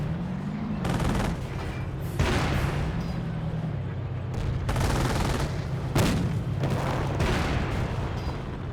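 Aircraft in the World War II strategy game Company of Heroes make a strafing run, several bursts of heavy machine-gun fire and explosive booms over a droning engine, with a voice talking now and then.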